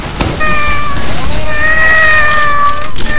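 A person imitates a cat with a drawn-out, wavering meow, loud and close, after a short sharp sound at the start, in the game Team Fortress 2.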